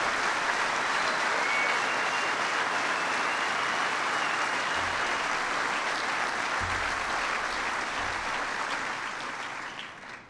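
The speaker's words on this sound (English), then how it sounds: "So give them a big round of applause." Loud, steady applause from an audience at Golden Valley honoring employers of veterans during a presidential speech, sustained clapping that fills the space and fades slightly at the end.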